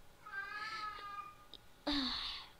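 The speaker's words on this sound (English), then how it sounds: "My cat is so loud." Loud pet cat meowing twice close by, a drawn-out tonal cry followed by a sharper, louder meow, in a quiet indoor room.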